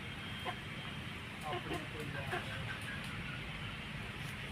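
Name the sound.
Vilayati Thai-Punjabi cross rooster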